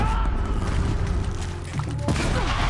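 An explosion in the video game Horizon Zero Dawn: a dense, rumbling blast of noise with a sharp burst near the end, set among ongoing game sounds.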